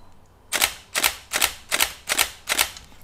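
Sony Alpha 580 camera shutter firing in continuous mode with a refocus before each frame: six crisp, loud clicks at an even pace of roughly two per second, with nothing else in the background.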